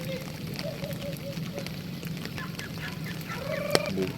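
Ducks kept by a household in a flooded neighborhood call with short quacking honks scattered over a steady background, one sharp loud call near the end, while voices talk faintly.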